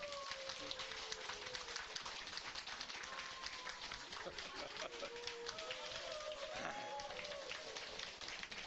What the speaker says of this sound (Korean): 장경동 목사님 우리 박수로 모시겠습니다